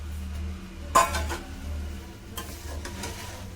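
Poha (avalakki) being stirred in a pan, with a sharp metallic clink of a spoon against the pan followed by softer scraping and stirring taps over a low background hum.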